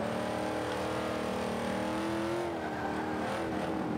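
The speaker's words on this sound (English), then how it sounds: "But this GNX is just so powerful, so fast, so fun to drive." A Buick GNX tuned for class B races in Forza 5, its engine roaring loud and continuous with rising and falling revs through a lap, a rival car nearby, no talk.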